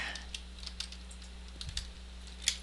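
Faint keystrokes tap out text on a computer keyboard while working in Photoshop, irregular light clicks with a small flurry near the end over a low electrical hum.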